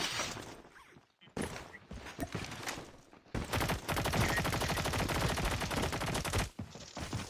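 Gunfire in the COD Mobile shooter game: loud, dense bursts of rapid shots with a brief lull, then a long sustained volley, close and with no talking.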